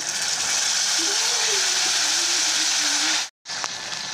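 Tomato paste frying with browned onions and spices in a pan for an egg and tomato curry gives a steady, loud, broadband sizzle that cuts out briefly near the end before resuming.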